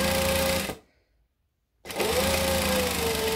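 A sewing machine runs in two steady bursts as it stitches along the lining edge of a shoulder bag, a loud close motor whir broken by about a second of silence.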